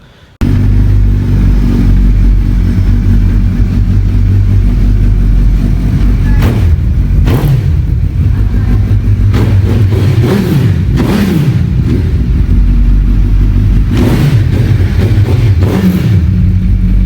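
A 2300 cc superbike engine runs loud and close, its deep rumble steady throughout with several sharp rev blips rising and falling, no voices.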